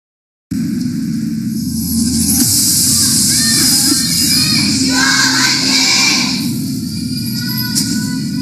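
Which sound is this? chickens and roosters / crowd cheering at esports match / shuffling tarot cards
crowd cheering at esports match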